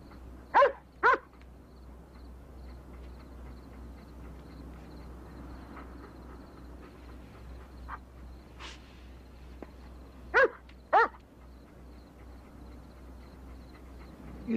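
A dog gives several short, sharp barks in pairs, separated by quiet stretches over a low steady hum, with a faint yip in between.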